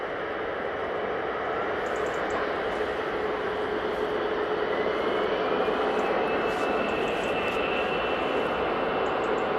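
An EasyJet Airbus A320ceo rolls down the runway for takeoff at Manchester Airport, its engines giving a broad, steady roar with a rising whine, held at constant strength throughout with no voices.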